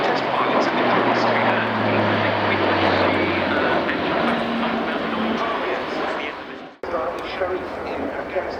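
A Luftwaffe Airbus A400M Atlas turboprop transport performing a flying display at RIAT, with a loud, broad propeller and engine roar that sweeps past and drops away near the end, while an announcer talks over it.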